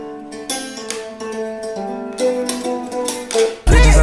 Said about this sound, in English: a Zeze is actually an African instrument